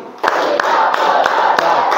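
A class of schoolchildren clapping a tepuk rhythm twice, with a handful of crisp group claps at roughly regular intervals over constant chatter and voices in the room.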